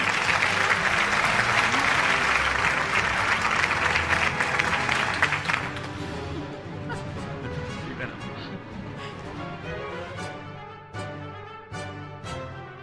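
At an annual news-network award show, a large audience breaks into loud, dense applause that thins out after a few seconds into scattered claps, with a presenter speaking over it.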